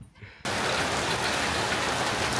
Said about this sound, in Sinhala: වැස්සක් වැඩෙනවා.